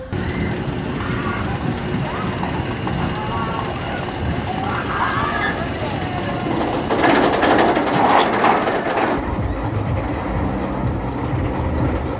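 A roller coaster train rumbles and clatters steadily along its track at Six Flags Over Georgia on a very cold day, with a brief louder rushing burst before it cuts off.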